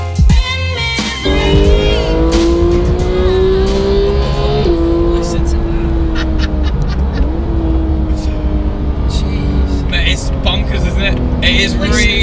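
A Porsche engine accelerates hard, the loud revving pitch rising steadily through long pulls with a shift break midway and then climbing again, with voices talking over it.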